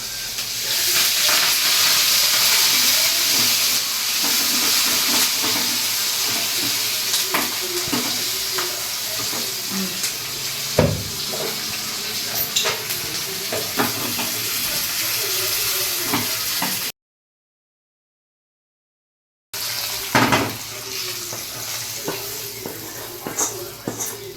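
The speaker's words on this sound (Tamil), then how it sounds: "வந்து தாளி போட்டுக்கலாம்" A tempering for pongal sizzling in hot oil, a dense hiss with occasional stirring clinks, cut by a brief silent gap before the sizzle resumes.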